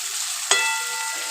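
Cut eggplant dropped into hot tempering oil for idli sambar gives a sudden crackling sizzle burst, then a steady close frying hiss that fades slowly, with no talk.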